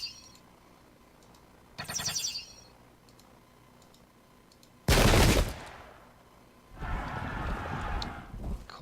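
Musket volleys and cannon fire from the Pike and Shot strategy game come as separate loud bursts: a crackling volley, a heavy boom, then a longer rattling spell of gunfire, with quiet gaps between them.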